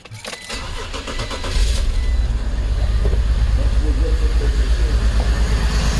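A BMW X3 with one cylinder's coil pack pulled cranks briefly, then fires and settles into a loud, steady idle close by. A voice is briefly heard over it.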